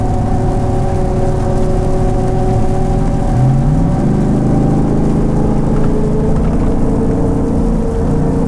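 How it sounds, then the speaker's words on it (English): A lifted, tuned Ford F150 with a 5.0 engine breathes through a Magnaflow muffler. It gives a steady, loud, close exhaust drone with a brief rise in revs partway through and no talking. "sometimes I do like the sound of this muffler for real, bro. Like this Magnaflow sound real good"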